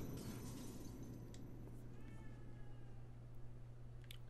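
A cat meows faintly inside the video game The Evil Within 2, a few thin calls sitting over a steady low hum and game ambience.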